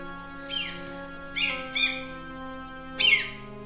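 Bird squawking just outside a window, three or four short harsh calls in separate bursts over a steady humming background of video game music.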